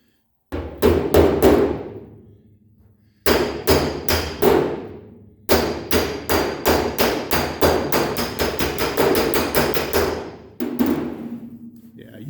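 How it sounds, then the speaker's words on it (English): A metal hammer strikes a car body panel backed by a dolly to work out a dent. Sharp ringing blows land in quick rhythmic bursts of several hits each, close and loud, with brief pauses between series. "you can hear that sound like a hammer coming off an anvil"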